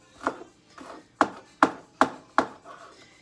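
A knife chops garlic cloves on a wooden board, about six crisp, close knocks at an uneven, unhurried pace with no voices.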